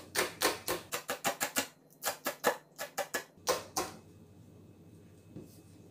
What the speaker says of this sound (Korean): 송송 썰어주겠습니다.